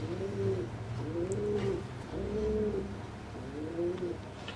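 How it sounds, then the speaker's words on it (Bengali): Big fancy Homa and Giribaz pigeons cooing nearby, about four soft, throaty coos repeating at an even pace over a low background hum, with no voices. "আর কবুতরগুলো গেট আপ অনেক ভালো, মানে সাইজ মাশাল্লাহ, খুব বিগ সাইজের কবুতর"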